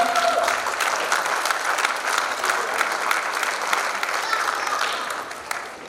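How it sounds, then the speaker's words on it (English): Sustained applause from a dinner audience at a Diwali celebration, steady dense clapping filling the room with a few voices and cheers mixed in, fading slightly toward the end. "give a round of applause to Paresh Bhai"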